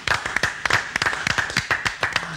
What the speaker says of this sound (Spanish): El aplauso, chicos